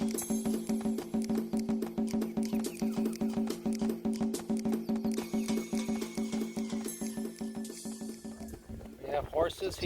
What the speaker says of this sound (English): We have horses here.